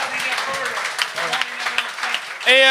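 A studio audience applauds at a variety show, with scattered clapping running under a talking voice and a brief loud vocal burst at the end.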